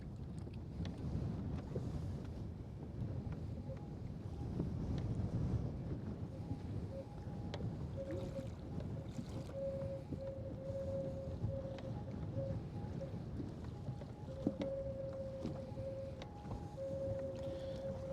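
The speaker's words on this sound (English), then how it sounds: "This wind is definitely making it tough on the anglers." Wind blows across a lake during a fishing tournament at Wister Lake, a faint, steady low rush with no talk, and a thin tonal whine drifting in and out in the second half.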